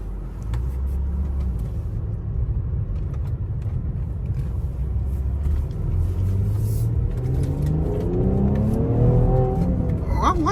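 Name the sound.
Mercedes AMG GLE accelerating with straight pipe exhaust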